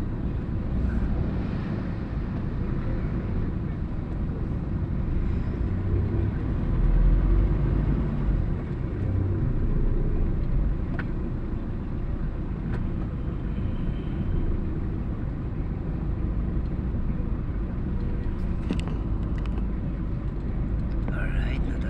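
Dense road traffic on EDSA heading toward Cubao forms a steady low rumble of engines and wind buffeting a nearby microphone, continuous for the whole stretch, with faint voices murmuring underneath.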